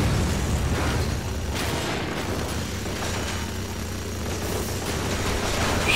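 Rocket blasts in the video game Lost Planet, a dense, continuous rumble of booms and bursts throughout, with sharper cracks near the end and no clear talk.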